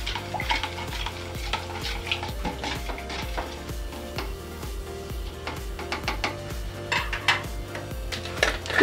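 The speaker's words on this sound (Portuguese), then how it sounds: "Agora é só misturar bem." A homemade air freshener mixture with a few capfuls of alcohol being stirred briskly in a container, with a steady scraping, swirling rhythm and faint clinks, no talking.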